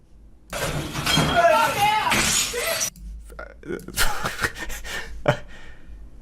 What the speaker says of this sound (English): there is a lot of glass being thrown here